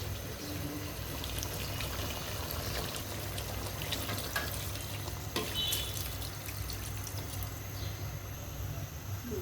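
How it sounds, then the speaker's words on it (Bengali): Broth is poured into a frying pan of liver curry, producing a steady, moderate wash of liquid and sizzle that continues evenly throughout. "এখন ঝোল দিয়ে দিব।"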